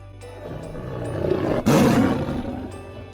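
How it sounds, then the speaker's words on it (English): A tiger roars once, a deep, loud, close growl that swells to a harsh peak and fades, alone without any talk. "What sound does a tiger make?"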